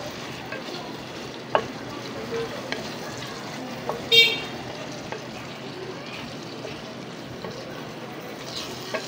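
Shrimp salvatore seasoned with salt and black pepper is stirred in a frying pan, giving a soft, steady scraping and sizzle with a few light clinks of the utensil against the pan.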